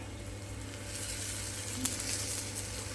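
Ragi flour adai frying in oil on a hot pan, giving a steady, close sizzle with a faint soft clink partway through and no talking.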